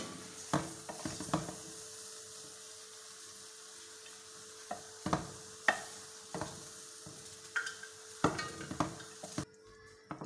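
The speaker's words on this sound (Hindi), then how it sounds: "और अब मैं इन तमाम चीज़ों को मिक्स कर लूँगी अच्छे से" Spoon stirring ketchup and potatoes into other ingredients in a pan for Sri Lankan kottu, irregular scraping knocks against the pan over a soft steady sizzle.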